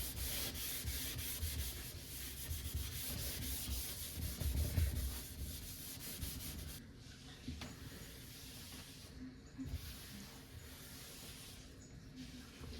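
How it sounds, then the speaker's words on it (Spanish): A damp cloth scrubs and polishes a kitchen stove top with steady rubbing strokes, louder and denser at first, then softer and more broken toward the end, heard close up with no talking. "con un pañito húmedo empiezo a tallarle como si estuviera puliendo mi estufa"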